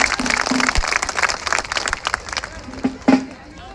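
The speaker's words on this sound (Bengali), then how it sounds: "সবার জন্য একটা জোরে হাততালি।" A crowd at an outdoor election rally on a football field applauds in a dense, steady roar of clapping with a murmur of voices, punctuated by a few sharp louder bursts near the end.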